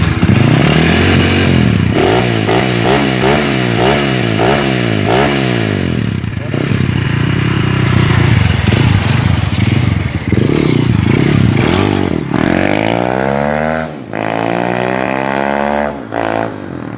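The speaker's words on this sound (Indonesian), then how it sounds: "Jadi untuk knalpotnya ini knalpotnya menggunakan knalpot bobok." A Honda Astrea motorcycle with a bobok exhaust and standard carburetor revs hard, its loud engine rising and falling in repeated bursts, up close, with brief mechanical clatter.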